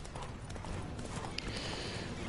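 Horse hooves clip-clop steadily in The Witcher III video game as the horse is ridden, a continuous rhythmic patter under dense game ambience.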